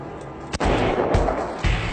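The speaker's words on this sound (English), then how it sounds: "I'm shooting the enemies in the hills. I've never done this before. It's a Kalashnikov" Kalashnikov rifle gunfire aimed at targets in the hills, loud sharp shots, about three reports in two seconds, close and dominant.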